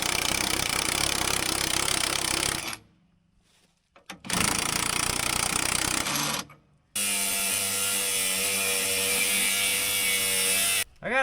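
Pneumatic impact wrench running nuts onto bolts while repairing a timber log bridge: loud sustained whirring bursts cut by short gaps, the last long run showing a steady motor drone with harmonic tones, close up.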